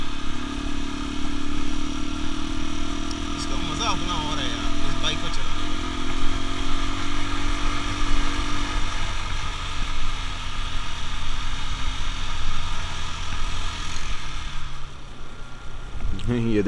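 Engine of a United 125 Racer Trail motorcycle at riding speed, a steady mid-pitched drone with light mechanical clatter, close and fairly loud, with a shift in tone partway through.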